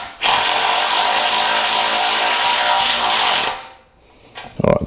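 Power tool with a 3/4 inch socket tightening a suspension bolt on a classic Mini, a loud steady whirring run for about three seconds that winds down, then a short burst again near the end.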